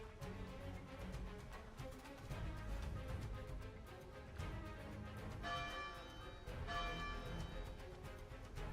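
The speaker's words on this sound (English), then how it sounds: "Your little clock tower with a bell right here on top of the church." Church bell atop a clock tower in the video game ARK: Survival Ascended, ringing with a few faint, resonant strikes over a low, steady game ambience.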